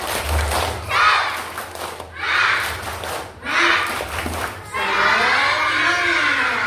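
Schoolchildren at a Maulid Nabi gathering perform a rhythmic clapping chant, their shouted phrases and claps coming in regular bursts, then swelling into loud group cheering, with low thumps underneath.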